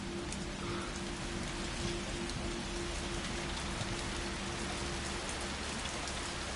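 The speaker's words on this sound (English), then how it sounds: "I love the sound of rain." Steady, dense rain in the video game Resident Evil 3 (2020) pours evenly throughout, a constant hiss with scattered droplet patter and no voices.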